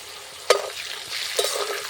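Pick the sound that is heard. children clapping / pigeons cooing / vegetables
vegetables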